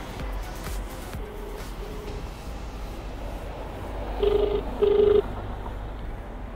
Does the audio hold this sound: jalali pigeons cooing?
no